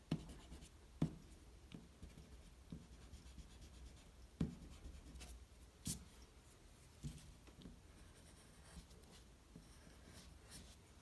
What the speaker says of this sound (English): I'm going to erase the construction lines that I don't need